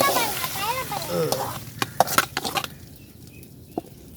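Tomatoes sizzle in a pan while a spoon stirs and scrapes with a few sharp knocks, close up, after someone talks over it.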